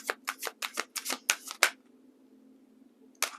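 Tarot cards are shuffled in a quick run of about ten crisp riffling snaps, close and clear, followed by a pause and one final snap.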